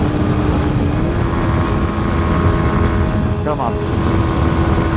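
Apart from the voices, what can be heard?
Kawasaki Ninja 125 motorcycle engine revving on a steep climb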